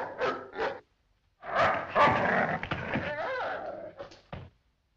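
A dog barks in a 1958 film scene, two short yips followed by a longer run of loud, close barking and a final sharp bark, with no talk over it.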